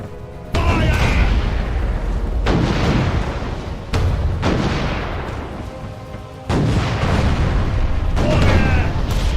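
Ship cannons in the naval video game Furious Seas boom in heavy blasts at about 0.5, 4 and 6.5 seconds, each roaring broadly and fading under a continuous rumble of battle noise.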